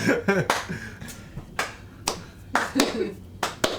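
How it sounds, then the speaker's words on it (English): Slow clapping at a cocktail tasting, several sharp, spaced hand claps ringing out one after another amid casual voices talking. "That's slow clap."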